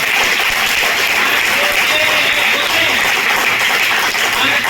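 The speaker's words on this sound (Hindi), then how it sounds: "आपके इस हिस्सेदारी के लिए जोरदार ताली होना चाहिए" Sustained audience applause at a Swachhata Hi Seva 2024 ceremony for NSTI Howrah, a dense, steady wash of clapping filling the room at full level throughout.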